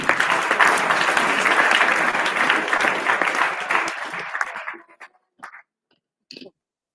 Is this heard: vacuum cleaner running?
no